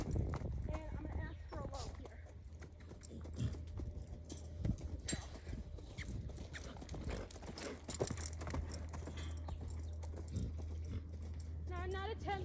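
A semi-retired mare ridden at a lope, her hoofbeats clopping steadily and fairly close, with a rider's voice and other talk over them throughout.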